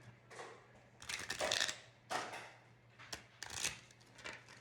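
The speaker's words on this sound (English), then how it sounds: "You can either shuffle them up like this." Playing cards shuffled by hand during a game of spades, a few quick riffling bursts with short pauses between them, close and fairly quiet with a low steady hum underneath.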